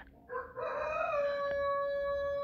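A rooster on a small farm flock of ten hens crows once, a clear rising then sustained call fairly close in a quiet setting.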